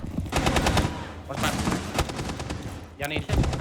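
MP5 bursts fire in a solo ranked round of a battle royale shooter, rapid gunfire crackling in repeated bursts across the whole stretch with more shots near the end, loud and close.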